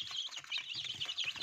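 Mixed flock of Rhode Island Red, Black Australorp, Brahma, Sussex and small native chickens clucking and chattering steadily at close range, a busy overlapping stream of calls with no talk.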